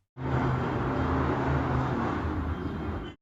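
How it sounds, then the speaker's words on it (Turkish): Three cars drift across a dirt lot, their engines a loud, continuous roaring drone with steady low rumble throughout, close by and without speech. "üç araç büyük bir gürültü ile drift atmaya başladı"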